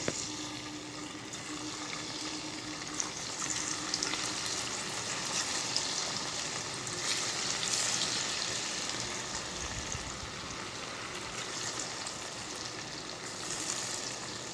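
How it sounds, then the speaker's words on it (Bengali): Marinated chicken pieces fry in oil in a frying pan, giving a continuous close crackling sizzle that holds steady throughout, with faint scrapes and no one speaking. "যে মাংসগুলো আমি মেখে রেখেছিলাম বিশ পঁচিশ মিনিট পরে এটাকে আমি ভেজে নিব"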